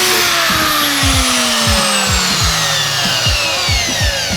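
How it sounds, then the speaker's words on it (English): A power grinder cuts loudly and close at a backwards-installed Rally Armor mudflap part, a continuous high whine with repeated scraping dips in pitch as the disc bites into the piece. "I'm just gonna grind it off"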